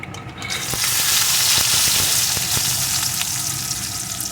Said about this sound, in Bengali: এগুলোকেও লাল লাল করে ভেজে নেব